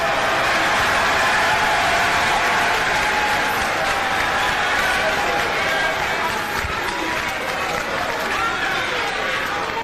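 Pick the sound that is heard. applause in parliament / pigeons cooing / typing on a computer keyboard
applause in parliament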